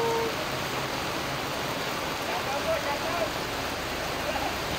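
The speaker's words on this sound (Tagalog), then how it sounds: "Malakas yung ulan dito." Heavy rain falls steadily at Central 2 Elementary School in Calamba, Laguna, a constant dense hiss that holds at the same loudness throughout the clip.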